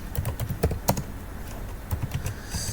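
A short burst of keystrokes on a computer keyboard as a terminal command is entered, quick irregular clicks close by and fairly quiet, pausing briefly midway before a few more taps.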